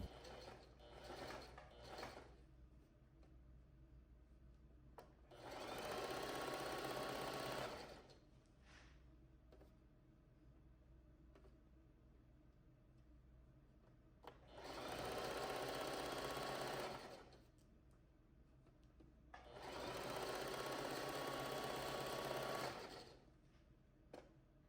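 A sewing machine straight-stitches horsehair braid onto the hem of a prom dress train, running in three long steady bursts separated by quiet pauses, close and alone with no talk.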